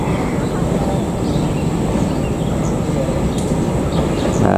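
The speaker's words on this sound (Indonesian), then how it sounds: "ini kereta api Bandung Raya Ekonomi masuk di jalur 1 dari stasiun Cisalengka, tujuan akhir stasiun Padalarang" The Bandung Raya Ekonomi train pulls in on track 1 at Rancaekek station, bound for Padalarang, as a steady low rumble and rolling noise that fills the platform, with faint squeals above.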